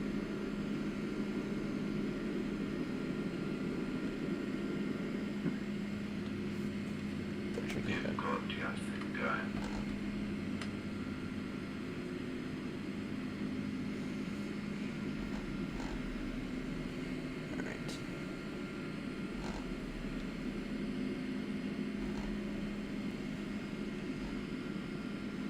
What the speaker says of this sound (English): Oh, that was a good takeoff.